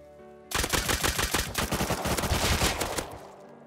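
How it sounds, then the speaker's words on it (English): Turrets in Rust unload a long burst of rapid automatic fire at a player carrying an MP5, loud and close, starting abruptly and rattling for about two and a half seconds before stopping. "arriving perfectly to hear an MP5 getting lit up by turrets"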